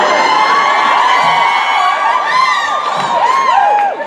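A fan-convention crowd cheers and whoops loudly, with many high shrieks and yells rising and falling over a dense roar, though distinct clapping is not clearly separable.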